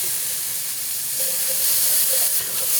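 Diced jalapeno drops into a hot pot and sizzles with a loud, steady, bright hiss that swells a little midway and holds without a break.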